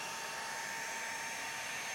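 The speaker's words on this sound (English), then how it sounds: "I grabbed my HomeRite paint sprayer, and I'm just using white latex paint here" A HomeRite paint sprayer spraying white latex paint on a farmhouse end table gives a steady, loud airy hiss that runs continuously without breaks for the whole stretch.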